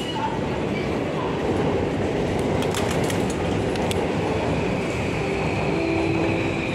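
A JR train at Shibuya station in Tokyo makes a steady, fairly loud rumble of wheels and carriages. Faint station noise and a few brief metallic clicks sit under it, with no clear talk.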